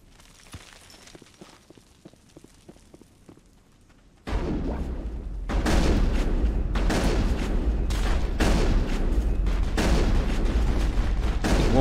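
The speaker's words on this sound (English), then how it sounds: "This woman's shooting me." Sustained volleys of gunfire from a Mass Effect firefight, loud and dense with heavy booming bursts, starting after a few seconds of quieter isolated shots and footsteps.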